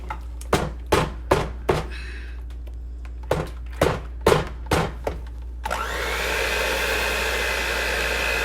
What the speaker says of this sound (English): I'm using a hand mixer